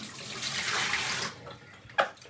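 Water rushes and splashes as it is poured out for about a second, then trickles and drips, ending with a short splash.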